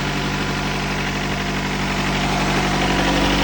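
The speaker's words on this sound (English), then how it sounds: "because this hose is broken, it's making it idle up and down" A Honda Prelude engine idling with a broken hose causing an uneven idle, a loud, close, continuous engine drone with steady vibration throughout.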